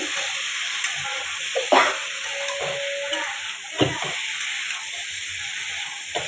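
Mixed vegetable curry with jackfruit seeds, potato, pointed gourd and stalks frying in a pan, a steady close sizzle broken by scraping stirs with a spoon every couple of seconds.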